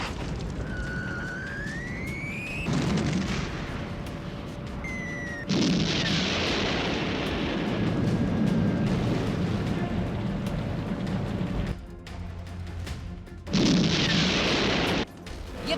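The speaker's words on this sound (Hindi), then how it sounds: "धमाके, शोले और आसमान में उठता धुएं का गुबार।" Repeated heavy booms and blasts from an attack on Caracas, Venezuela, with a rumbling roar, broken by bursts of noise and a rising siren-like whine, loud and continuous.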